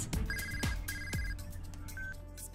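A telephone line rings with a repeating electronic ringtone, two clear tonal bursts with short gaps between them and a fainter third tone near the end, heard alone without speech.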